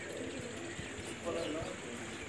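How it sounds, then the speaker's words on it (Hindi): Soft, low cooing of racing pigeons rises briefly midway through a steady background murmur, with faint voices nearby. "5 कबूतर हैं।"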